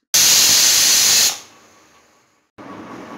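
A pressure cooker on medium heat, boiling whole vegetables with peanuts, lets out a loud close steam whistle that hisses for about a second, fades to a soft hiss, stops briefly, then hisses again.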